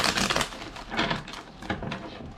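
Cards are shuffled in a few quick riffling bursts, crisp and close, with brief pauses between them.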